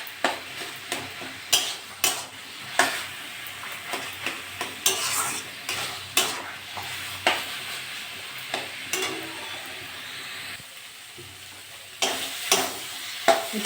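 Taro leaves being stirred and fried in a pan, with a steady sizzle beneath repeated scraping strokes of a utensil against the pan at an irregular rhythm.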